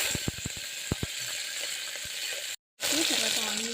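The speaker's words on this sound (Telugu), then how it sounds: "కరివేపాకు వేసుకొని కొంచెం ఫ్రై చేయాలి." Curry leaves and green chillies fry in hot oil, a steady close sizzle with a few sharp pops and stirring clatter, briefly cut off before the sizzle resumes louder.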